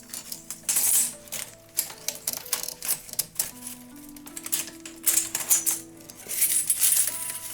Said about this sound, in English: You can hear the spring winder unwinding.